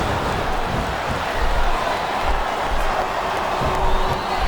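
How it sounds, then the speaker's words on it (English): A wrestling arena crowd in WWE SmackDown vs. Raw 2007 roars and cheers continuously, a dense loud wash of massed voices that swells and falls without any clear break. "Wow, listen to that chant, Taz."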